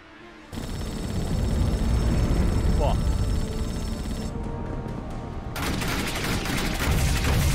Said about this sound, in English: On my word, loose a PDC volley